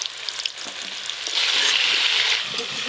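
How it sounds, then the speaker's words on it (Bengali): Eggplant slices fry in hot oil in a pan, a close, steady sizzle that swells louder midway, with light stirring scrapes mixed in and no voices. "বেগুনগুলো লাল করে ভেজে নিয়েছি তুলে নেবো"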